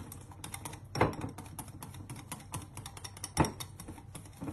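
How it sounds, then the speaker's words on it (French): Whisk beating vinaigrette in a bowl, a quick close run of light clicking taps with a couple of louder knocks, no voices. "faut juste fouetter pour bien mélanger"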